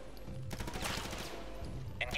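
Machine-gun fire aimed at an alien in a video game comes as short, dense bursts of rapid shots with a brief pause between volleys, and a voice speaks alongside.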